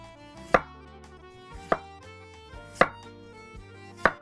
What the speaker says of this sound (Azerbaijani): Kartofları bu cür yuvarlaq orta qalınlığında doğrayıram